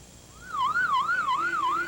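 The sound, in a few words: ambulance and fire truck sirens wailing in Baghdad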